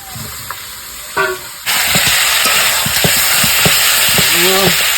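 Fried potatoes hit hot oil in a frying pan while cooking fish curry, setting off a sudden loud, steady sizzle after a few utensil clinks, with a faint voice nearby.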